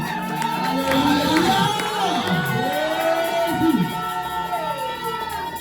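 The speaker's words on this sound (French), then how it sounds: "Est-ce que tu peux pousser un cri de joie?" A church congregation shouts and cheers for joy, a loud crowd of voices rising and falling in wavering whoops and cries throughout.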